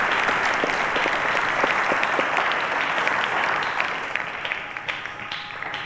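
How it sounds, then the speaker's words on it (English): Studio audience at a televised Nigerian quiz show breaks into sustained, loud applause, dense clapping filling the room and tapering slightly toward the end. "So encourage them with a round of applause."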